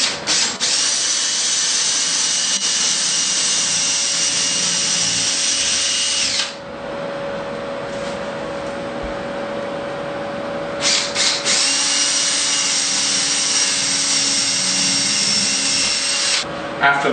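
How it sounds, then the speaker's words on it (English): A power drill bores a quarter-inch pilot hole through Onyx shower wall panels, running loud and steady for several seconds, pausing briefly, then drilling again with a harsh, continuous whine. "we're just going to pre-drill a quarter inch hole through the Onyx wall panels"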